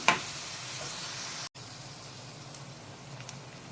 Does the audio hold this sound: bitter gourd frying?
yes